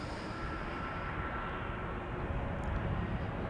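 Air Canada Boeing 787-8 Dreamliner jet lined up for departure at Amsterdam Schiphol Airport, a steady broad engine roar heard from nearby without a break.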